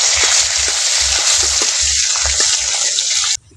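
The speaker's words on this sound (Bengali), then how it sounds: "একটু হালকা করে ভেজে নেব" Chopped cashew nuts fried lightly in oil in a pan, heard as a loud, close, steady sizzle with rhythmic stirring scrapes underneath, cutting off abruptly at the end; no one talks.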